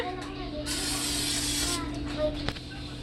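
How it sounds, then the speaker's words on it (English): A short burst of non-stick cooking spray hisses into a pan on a stove for about a second, close by, followed by light clatter and quiet background hum. "Spray my non-stick cooking spray."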